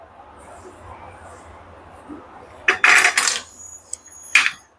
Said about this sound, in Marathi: असे बटाटे चिरून घ्यायचे